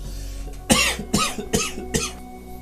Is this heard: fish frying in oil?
no